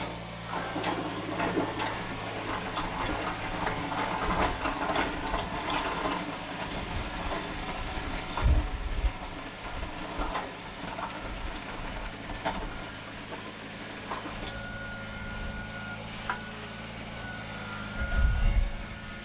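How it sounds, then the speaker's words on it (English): A Kubota BX compact tractor drags a 5-foot box blade with its rippers lowered through gravel, a steady engine drone mixed with continuous grinding crunch, with a couple of heavier thumps along the way. "So now I'm simply going over the same area with the rippers down another notch, and you can see the lines in the gravel where it's breaking up that material."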